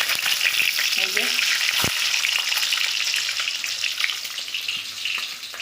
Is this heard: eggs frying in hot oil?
yes